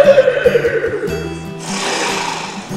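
A man imitates a happy, excited horse whinny with his voice, a high quavering neigh that trembles down in pitch, followed by a breathy, snorting burst, close and loud.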